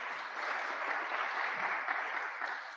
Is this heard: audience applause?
yes